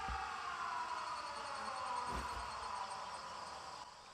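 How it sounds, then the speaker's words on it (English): Air raid sirens in the video game 13 Sentinels: Aegis Rim wail steadily and faintly under a continuous hiss, a sustained tonal drone that holds for several seconds with no talk over it. "a freaking air raid sirens just go off"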